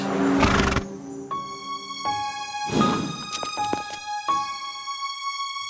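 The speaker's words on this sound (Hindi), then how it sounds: "वीर, देखो, बंटी ने हमारे घोड़े को टक्कर मारी।" A horse neighs after being struck, with a loud whinny near the start and then a second one, mixed with sharp impacts and ringing tonal effects that point to an animated scene.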